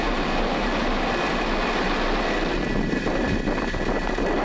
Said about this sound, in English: Ignition and liftoff of SDA.